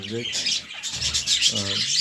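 German-breed birds chirp quietly in short intermittent bursts, mixed with soft rustling and scratching sounds close by.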